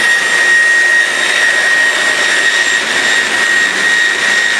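A CNC router cuts a sign clamped on a vacuum table, producing a loud, steady high-pitched whine with constant tonal hum and no pauses.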